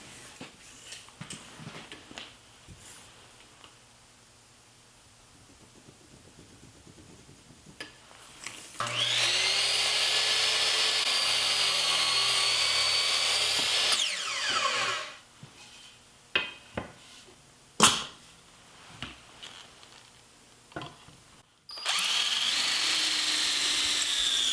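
A power saw whines loudly through a miter cut in bed trim for a platform bed build, a sustained roar of about six seconds after quieter handling noises, followed by short bursts and another run of the blade.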